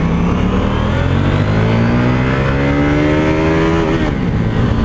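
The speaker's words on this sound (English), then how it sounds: "See how fast it'll go in first gear. Hit the rev limiter." A KTM 790 Duke motorcycle in first gear revs hard, its engine note climbing steadily and loudly before hitting the rev limiter near the end, close to the listener with no talking.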